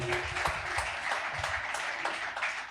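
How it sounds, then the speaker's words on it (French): A church congregation at a worship service applauds in a steady, moderately loud wash of clapping with a few sharper individual claps, while faint voices murmur beneath. "On peut pene encore lui dire merci par nos acclamations."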